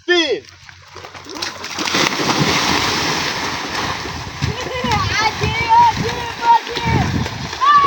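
People jumping one after another into a river, with repeated loud nearby splashes and churning water over a steady outdoor rush, while voices shout and talk throughout.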